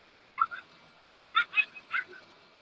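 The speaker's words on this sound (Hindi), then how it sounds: "लगड़ा कुत्ता है, 3 टांग का है, और बब्बर शेर को उसने भगा दिया है।" A three-legged dog barks at a lion, giving short, sharp yips and barks in two bursts, a pair and then a quick run of three, fairly close against a quiet background.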